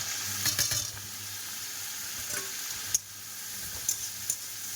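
Vegetables and fish frying in a home kitchen pan, a steady hiss running throughout with a few light clinks and stirring scrapes scattered over it.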